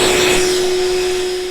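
A Milwaukee M18 compact cordless vacuum runs steadily and loudly with a constant whine and a sustained airy rush, holding without a break and tapering slightly near the end.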